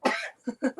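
A sharp, explosive sneeze followed by a couple of short breathy bursts, close and loud, with no talking.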